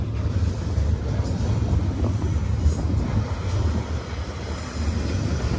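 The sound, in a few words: freight train passing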